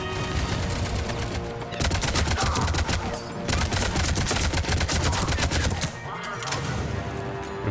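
Dense, rapid gunfire from Mass Effect 3 combat, sustained bursts of automatic weapon fire with a brief lull near the two-second mark and another dip near six seconds, loud and continuous throughout.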